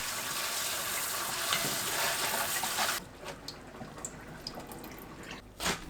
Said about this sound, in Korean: 10분 후 체에 거르고 물에 헹굽니다.